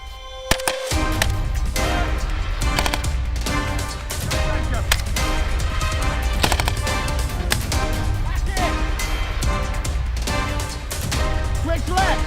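Rifle fire during a military firing exercise by the Falkland Islands Defence Force, a rapid irregular stream of sharp close shots continuing throughout, with shouted voices mixed in.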